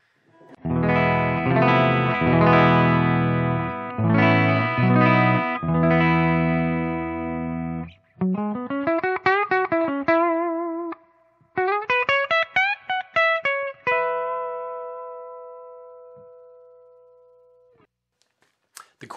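Yamaha Revstar electric guitar on its bridge humbucker alone: loud strummed chords, then a series of picked single notes and short phrases, ending on a sustained note that rings out and slowly decays.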